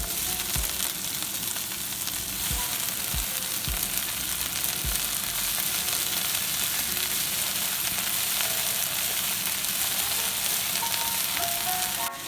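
Vegetables and bean sprouts stir-frying for chow mein, a loud continuous sizzle and crackle with a few low thumps of the pan or utensil early on, close and unbroken, with no voices.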